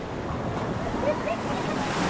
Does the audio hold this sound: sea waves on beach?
yes